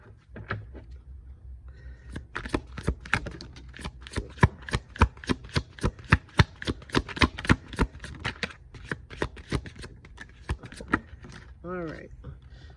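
Tarot cards being shuffled by hand, a rapid run of crisp riffling slaps and flutters close up, with brief pauses and a softer final ruffle.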